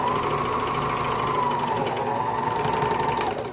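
A serger (overlock machine) finishing a fabric edge on a doll romper, running as a steady, close, fast mechanical whir without pause for several seconds before tapering off at the end.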